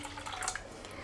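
Water pours briefly into a mango drink being mixed in a kitchen, a soft splashing trickle with light dripping, fairly faint and close, ending in a sharp clink.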